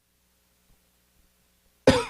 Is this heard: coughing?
yes